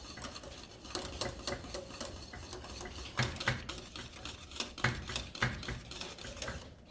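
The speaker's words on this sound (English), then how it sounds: "I'm just going to add in one at a time. Get it whisked and melted," A whisk ticks and patters quickly against a pot as butter pats melt into lemon meringue pie filling, a dense, irregular scraping and clicking that runs steadily throughout at close range, with no talking.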